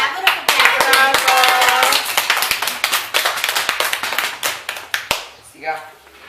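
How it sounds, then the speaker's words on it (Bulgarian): Children clap their hands in a classroom, a burst of quick, uneven clapping that rises and then breaks into scattered claps, with young voices chattering underneath. "Браво, ръкопляскане."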